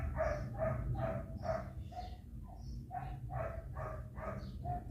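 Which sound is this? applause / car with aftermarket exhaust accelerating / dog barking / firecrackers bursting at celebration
dog barking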